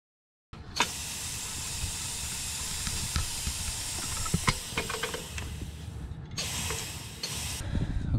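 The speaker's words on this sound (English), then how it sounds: "you just apply some shop air to there to actuate the arm" Compressed shop air hisses steadily into a Banks BigHead wastegate actuator on a first-generation Cummins, a broad continuous blast close to the mic, briefly dipping and resuming near the end, with small clicks of the actuator arm.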